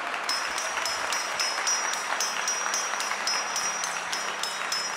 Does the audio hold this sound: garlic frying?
no